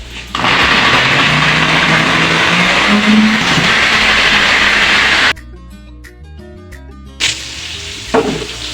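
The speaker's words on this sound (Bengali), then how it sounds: "Blender start." A kitchen blender whirs loudly and steadily for several seconds, then cuts off, leaving quiet clicks and a brief restart near the end.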